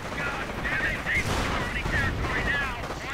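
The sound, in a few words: BAR and rifle gunfire in a WWII strategy video game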